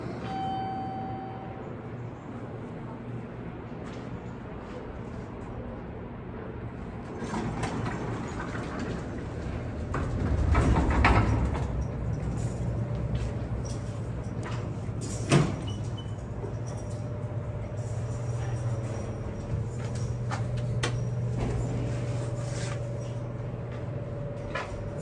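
A Montgomery/Kone hydraulic elevator in Terminal 1 at Chicago's O'Hare Airport runs with a steady low hum and faint mechanical drone. Door-like slides and rail-like knocks sound over airport ambience, with a sharp bump midway.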